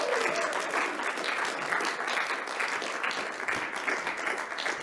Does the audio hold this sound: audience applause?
yes